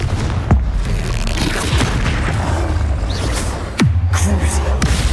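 The Confringo fire-blast spell from the Hogwarts Legacy game goes off in two sharp booming blasts, one early and one near the end, amid busy combat noise and whooshing effects.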